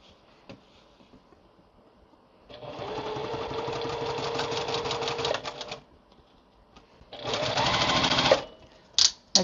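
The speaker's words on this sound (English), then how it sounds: "I'm going to sew this top row together" A sewing machine runs in two bursts, one of about three seconds and a shorter one later, stitching quilt block rows together, with quiet pauses and small handling clicks between.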